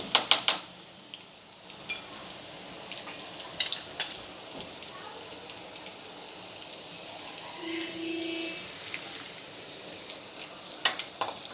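Garlic ginger paste dropped into hot oil already spluttering with cumin and mustard seeds, giving a quiet, steady crackle with a few sharp spatters at the start and scattered pops after.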